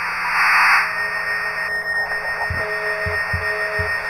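Radio static hisses loudly while a frequency is tuned in the Antenna video game, followed by a steady tone and a few short, soft electronic pulses near the end.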